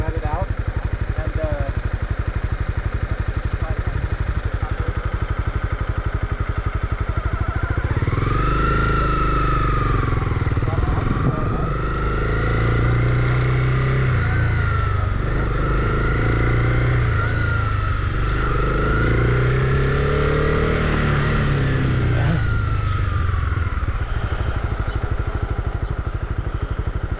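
A Honda CB300R motorcycle engine idles, then swells under light throttle as a beginner lets the clutch out, rising and easing in a few uneven surges, close by, with an instructor talking over it.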